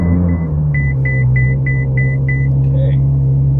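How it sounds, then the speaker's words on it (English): A Ferrari F12 TDF engine fires up by push-button start, a loud steady low rumble under a short series of evenly spaced electronic chimes, then a brief higher whir. "Put your foot on the brakes and you push start."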